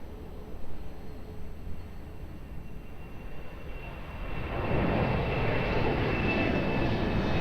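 An airliner at Lisbon Airport makes a steady broadband engine roar that swells louder partway through and holds, heard alone with no talk.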